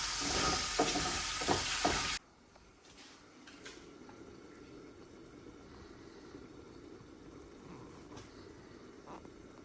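Garlic frying in a pan on a home stove, a loud crackling sizzle at first that drops abruptly to a soft, steady low sizzle with faint occasional pops.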